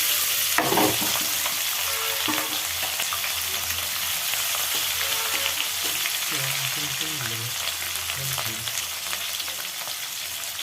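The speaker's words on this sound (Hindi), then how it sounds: "जब हमारा तेजपत्ता हल्का जल जाए तो उसमें हम हरी मिर्च डालेंगे।" Green chillies and bay leaf frying in hot oil while samosa filling is made, a steady dense sizzle with occasional stirring scrapes, close and loud throughout.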